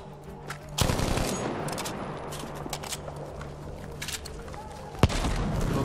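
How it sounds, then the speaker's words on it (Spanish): A fast-firing weapon rattles off rapid bursts in the video game Battlefield V, sharp reports and booms over a busy battle backdrop, with someone talking in Spanish in the mix. "Esta arma es súper rapiduti, ¿eh? Dispara a una velocidad que flipas."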